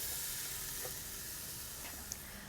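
A flat iron steak sizzles on a grill, a steady, soft crackling hiss with faint pops, alone without talk.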